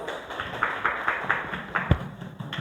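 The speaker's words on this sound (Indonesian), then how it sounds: "Tepuk tangan untuk kelompoknya Titis" A classroom group gets a round of applause from students, a scattered, fairly quiet clapping of a few hands with uneven rhythm and one sharper thud near the end.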